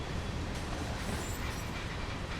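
A Canadian National freight train running on the Oakville Subdivision in Train Sim World gives a loud, dense, steady rumble of rolling wagons with faint clattering wheels, no voices.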